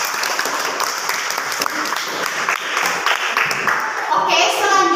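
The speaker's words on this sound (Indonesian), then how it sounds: "kita beri tepuk tangan" Students in a classroom give a round of applause, a burst of many hands clapping near and fairly loud, thinning toward the end as a few voices chatter.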